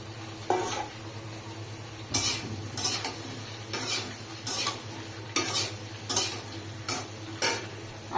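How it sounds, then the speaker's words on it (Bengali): Ridge gourd and potato pieces frying in a pan hiss steadily, broken by repeated sharp scrapes of a spatula stirring against the pan at irregular intervals, close and clear with no talking. "বা ঝিঙাটাকেও এর ভিতরে দিয়ে ভেজে নেব।"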